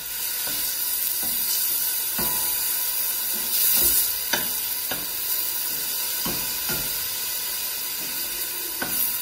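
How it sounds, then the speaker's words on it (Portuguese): Garlic and chopped onion sautéing in a pan, a continuous close sizzle with regular stirring scrapes every second or so, no talking. "Vou refogar aqui um pouco"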